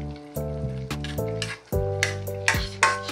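Vegetables such as string beans, chayote and cabbage sauté in a pan for Filipino ginisang gulay, with a steady sizzle broken by sharp clinks and scrapes of stirring.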